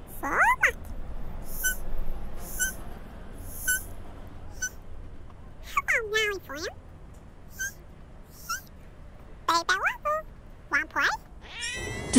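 A cat meows several times at spaced intervals, with drawn-out rising and falling cries and a quick pair near the end, over a quiet hiss.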